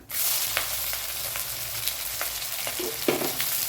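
Sliced shallots frying with spices in oil in a pan for a Kerala-style chicken roast, giving a steady loud sizzle and crackle throughout with a few sharp spatula scrapes and stirring clinks near the end.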